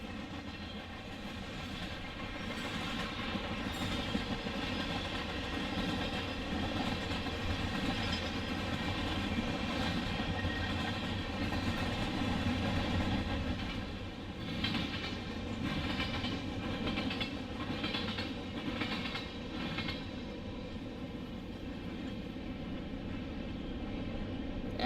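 A CSX freight train rolls past on a railroad in industrial Chicago, a long continuous rumble with steady clickety-clack of wagons, moderately distant and unbroken for the whole stretch.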